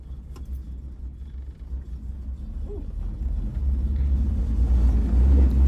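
A 1982 Camaro Z28's Chevy small-block V8 rumbles low and close, starting quietly and growing steadily louder and deeper as it settles into running, with no voices over it.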